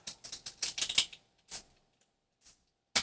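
Paper file folder pockets being trimmed across the top produce a quick run of crisp cutting snips, then a few isolated snips after pauses, close and clear with no voices.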